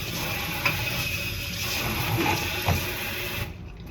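Water runs steadily from a tap into a small kitchen sink, a continuous close rush with a few light knocks and clinks, cutting off near the end.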